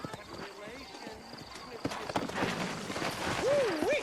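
Horse hooves clip-clop at a trot in the western video game Red Dead Redemption, rhythmic and moderately close, mixed with game ambience, a whinny-like tone and speech around them.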